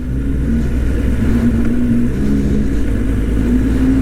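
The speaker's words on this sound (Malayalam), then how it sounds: "ഒരു നീറ്റായിട്ടുള്ളൊരു പ്രീമിയം സൗണ്ട് തന്നെയാണ് വണ്ടി." Up close, a 2025 Kawasaki ZX10R sport bike's engine and exhaust throb with a loud, steady low rumble and slight wavering revs throughout, alone without any voices.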